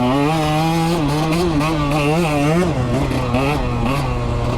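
A 2021 KTM 125 XC two-stroke dirt bike, running lean, buzzes along at riding speed, its close engine note rising and falling continuously with throttle changes.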